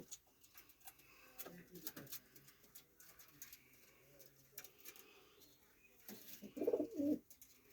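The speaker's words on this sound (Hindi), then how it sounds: "ये कबूतरों का डरबा है" Soft pigeon coos from a coop in a village, faint and scattered at first, then a louder burst of cooing near the end, with light ticking and rustling in the background.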